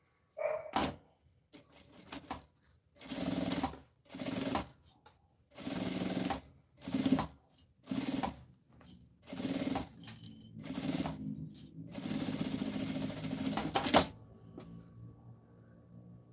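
Sewing machine stitching a seam along a zippered pouch, running in a string of short bursts separated by brief pauses and ending in one longer continuous run, close and fairly quiet.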